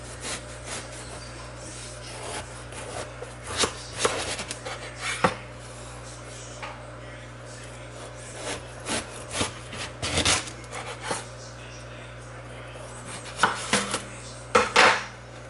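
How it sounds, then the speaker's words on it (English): Knife slicing an eggplant in half on a cutting board in a home kitchen, a series of sharp chopping taps and scraping rubs scattered irregularly over quiet room tone, with louder clusters near the end. "Okay, so here's my eggplant. I'm going to cut it right in half."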